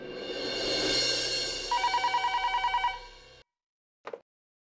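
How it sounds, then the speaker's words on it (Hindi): A telephone rings in a rapid electronic trill for about a second, over a busy background, then cuts off; a short faint sound follows after a pause. "जरा देखना तो फोन किसका आया।"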